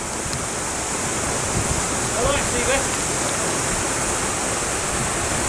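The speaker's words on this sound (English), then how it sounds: "It just opens a crack, just until the lock fills up steadily." Water rushes steadily into a canal lock through a barely opened gate, a constant roar with wind buffeting the microphone. Faint tones chirp briefly in the middle.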